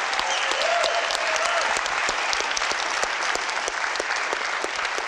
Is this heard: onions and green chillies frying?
no